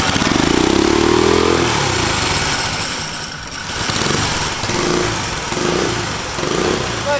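Turbocharged go kart engine with a new carburetor firing up and running, a rough, loud mid-pitched drone that dips briefly, then settles into a steady idle with rhythmic pulsing, close by.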